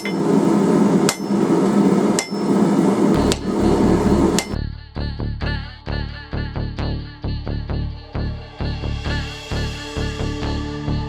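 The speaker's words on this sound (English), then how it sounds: "we're just going to forge a nice steep taper onto the tip of our bar here" A hammer strikes a metal bar on an anvil to forge a steep taper for a leaf pendant: a few heavy, spaced blows, then a long, rapid run of bright, ringing metallic hits, loud and close.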